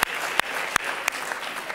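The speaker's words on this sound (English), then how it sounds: "give yourselves a round of applause" Audience applause at the close of an international affairs symposium at Lewis & Clark, steady loud clapping from a crowd, with a few sharper thumps breaking through the sustained patter.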